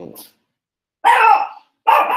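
A dog barks loudly and close by, two sharp barks after a brief bit of sound, with silent gaps between them and no talking.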